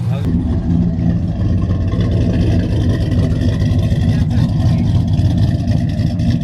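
A cammed Ram pickup engine idles roughly, not fully tuned and running short on fuel at idle, with a loud, steady, lumpy low rumble close by; voices talk over it.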